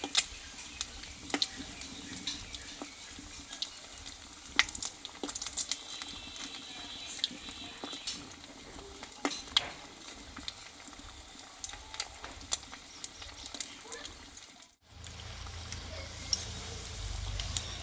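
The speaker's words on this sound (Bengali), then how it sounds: "দেখো বন্ধুরা এখানে কিন্তু দু পিচ আমার ভাজা হয়ে গেল চপ দুটো কত সুন্দর ফুলেছে" Bengali egg chops fry in hot oil over low heat, giving a faint, steady crackle and sizzle with scattered pops and a brief dropout near the end.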